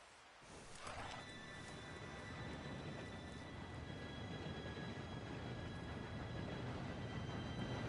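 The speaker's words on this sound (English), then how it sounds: "Train should be here any minute now." A steam train arriving in a Red Dead Redemption 2 game scene, a steady rumbling approach that swells gently and holds a constant roar with faint high tonal whines throughout.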